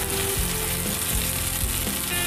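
Spare ribs fry in hot oil, producing a loud, continuous close-up sizzle and crackle with a few soft pops and no talking.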